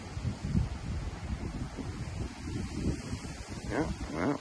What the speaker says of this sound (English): You can hear the wind howl.